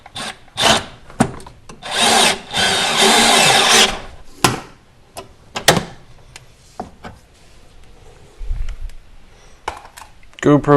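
A power tool tightening sway bar bolts on a 1994–2004 Ford Mustang, giving a couple of short whirring bursts and one longer, louder run, mixed with scattered clanks of sockets and metal.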